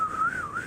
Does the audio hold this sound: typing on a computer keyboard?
no